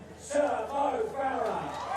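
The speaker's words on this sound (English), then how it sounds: "And the cheer, well, tells you all you need to know." Roadside crowd cheering for runner Mo Farah at the London Half Marathon, a broad swell of cheers and shouts at moderate distance, with commentary talk layered over it.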